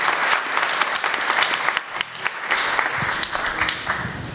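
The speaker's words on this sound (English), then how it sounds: "Let's give a round of applause to Mrs." Sustained, close applause from an audience fills the room throughout, dense and even with slight swells.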